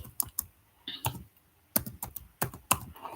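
Typing code on a computer keyboard while writing Python, with scattered crisp key clicks in short irregular clusters and brief pauses between them, close and clear with no talk.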